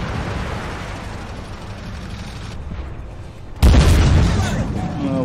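A Leclerc tank fires its cannon in a military video game. There is a sudden loud boom about two thirds of the way through, then a rumbling tail, over a steady engine drone.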